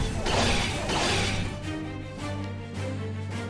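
A sword blocks a flurry of smashing blows in the Fate/Stay Night visual novel, a loud crashing clash up front trailing into a ringing metallic resonance and fainter thuds, with no speech.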